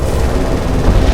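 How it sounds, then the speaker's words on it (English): A magazine explosion tears through a burning merchant ship in the naval combat game War on the Sea, a loud, sustained low rumbling roar with dense crackling that swells toward the end. "that's a magazine explosion"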